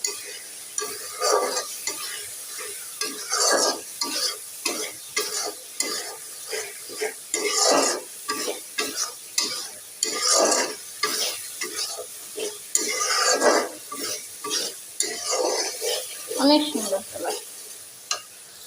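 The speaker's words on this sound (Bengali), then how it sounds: "অনেক স্বাদের চিংড়ি সুন্দর করে একটু কষিয়ে নিই" Shrimp sautéed in a pan, stirred vigorously with rapid repeated scraping strokes over a constant sizzle, loud and close, with occasional faint voice in the background.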